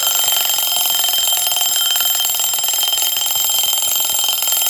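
An alarm rings loud and close, a continuous high electronic ringing that holds steady for the whole stretch with no voices.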